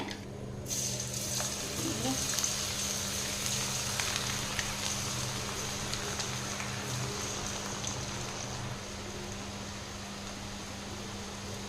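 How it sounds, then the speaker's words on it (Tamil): Millet (varagu rice) murukku dough pressed into hot oil fries with a steady dense sizzle and bubbling throughout, close and constant with a low hum beneath. "எண்ணெய் நல்லா சூடாயிருச்சு நம்ம வந்து இன்றைக்கி அப்படியே ஒத்தொத்த முறுக்காக வர மாதிரி நம்ம எண்ணெயிலேயே புழிஞ்சு விட்டுக்க போகிறோங்க"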